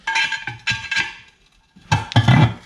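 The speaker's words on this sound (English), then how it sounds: "I took my wheel spoon" Steel tire spoon prying a tire bead over the lip of a double beadlock wheel, several sharp metallic clinks and scraping knocks in short bursts separated by a pause.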